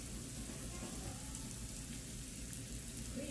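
Food frying in butter in a pan over low heat, a soft steady sizzle and crackle, faint and continuous with no voices.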